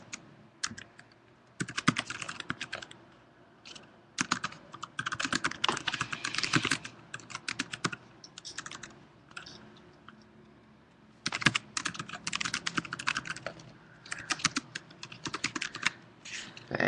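A tweet is typed on a computer keyboard in long, rapid bursts of close clicking keys, broken by a few short pauses and one longer gap midway.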